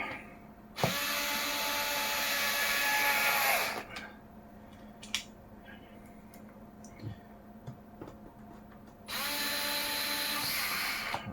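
A power drill drives screws into an RC car wheel rim, with two loud sustained whirring bursts separated by quieter clicks and handling taps.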